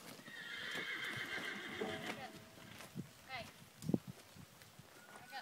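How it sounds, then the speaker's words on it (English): A horse whinnies and hooves clop faintly at a distance, with excited voices and cheering mixed over the top. "Look at the horse."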